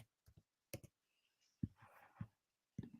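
Sparse keyboard typing comes in a few quick clicks and short bursts, close and fairly quiet, with brief faint rustling between strokes.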